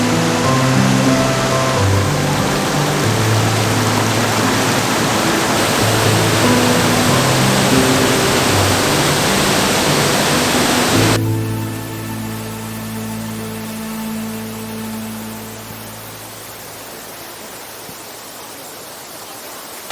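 Janet's Foss waterfall on Gordale Beck in North Yorkshire: a loud, steady rushing roar of falling water for about eleven seconds, then an abrupt shift to a quieter, more distant rush with a low hum.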